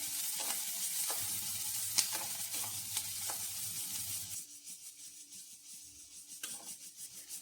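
Boiled legumes frying in a pan for a North Karnataka lunch, a close sizzle with scraping stirs that drops to a quieter, sparser crackle partway through.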